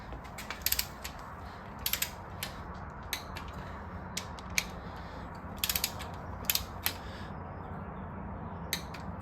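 A ratchet wrench tightens the main cap bolts on a Ford 5.4 4V V8 short block, with quiet, close clicking in irregular bursts of rapid pawl ticks over faint room hiss.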